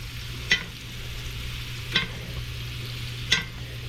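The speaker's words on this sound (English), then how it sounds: "Now we're gonna continue basting. You can add some more butter in there." Wahoo fish fillets sizzle in hot butter while being basted, a steady soft hiss under a low hum, punctuated by three sharp spoon taps against the pan at regular intervals.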